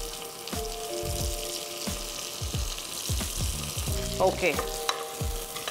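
Mint leaves sautéing in a pan, a close bubbling sizzle with repeated scraping and stirring knocks throughout, and a brief spoken word near the start.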